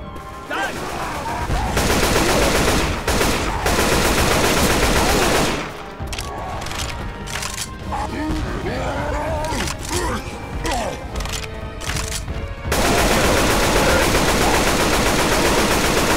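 Loud, sustained automatic gunfire in the zombie shooter Left 4 Dead 2, with dense bursts rattling almost continuously and brief lulls where other game sounds and distant shots come through.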